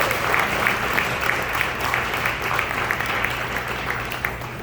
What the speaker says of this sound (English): we need to clap on that